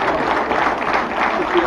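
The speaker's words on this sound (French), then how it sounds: "On les applaudit bien pour la Léodophie" Crowd applause rises from spectators lining a town parade of local associations in Le Carbet, a dense, steady patter of clapping with voices mixed in.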